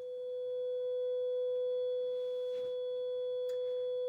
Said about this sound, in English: I'm gonna be playing a 500 hertz sine wave